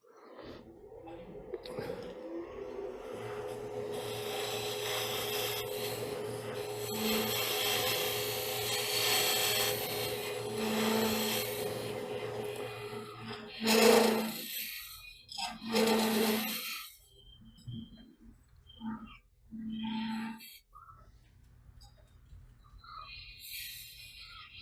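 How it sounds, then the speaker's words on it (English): A woodturning tool edge is honed to raise a fresh burr, giving a steady rasping, rubbing scrape that runs continuously for several seconds, then breaks into shorter strokes with pauses near the end. "So just put a fresh burr on the end."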